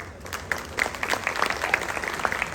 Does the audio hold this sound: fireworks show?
no